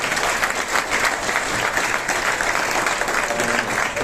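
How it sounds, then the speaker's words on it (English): Steady applause from a large audience at a motorcycle racing award ceremony, dense and continuous with no voices over it. "A special applause to TVS"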